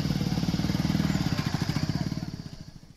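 A motorcycle carrying a family of seven riders in Kannauj, India, its engine putting out a steady, rapid low throb that swells and then fades as it passes close by. No one talks.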